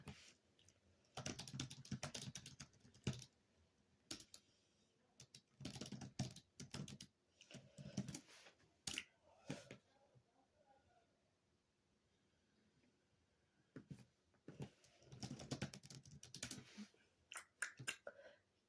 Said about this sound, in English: hear all my little keyboard clickety clacks today.